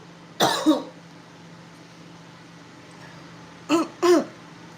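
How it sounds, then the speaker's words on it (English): Coughing from a person live on camera, one harsh burst followed later by two more in quick succession, close and loud against a quiet room. "I feel like coughing."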